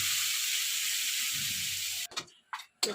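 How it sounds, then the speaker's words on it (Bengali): Bitter gourd (karela) fries in a pan, a steady loud sizzle for about two seconds before it breaks off into short bursts of hiss and quiet clatter. "আর এদিকে করলা ভাজিটা বসিয়ে দিয়েছি।"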